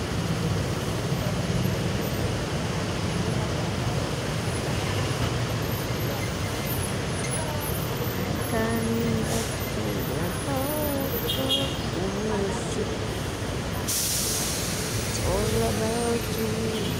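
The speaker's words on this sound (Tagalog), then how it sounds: "Mga bus." Buses and other vehicles in road traffic rumble steadily along a busy street, with constant engine drone and passing swells, heard up close as continuous background noise.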